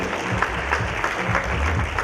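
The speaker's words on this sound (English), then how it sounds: "Can we have a round of applause?" Audience applause at an awards event, a steady wash of clapping with some low rumble underneath, continuous and fairly loud for about two seconds.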